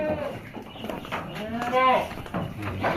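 Goats being sold with their kids bleat at close range on a farm, giving a few wavering, nasal calls, with a longer bleat near the middle, over a quiet background.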